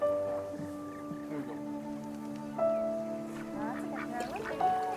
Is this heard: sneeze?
no